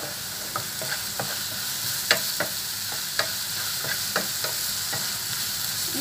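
Sliced onions sauté in a pan for a dry anchovy (netholi) chutney, a steady soft sizzle broken by regular clicks and scrapes of a spatula stirring.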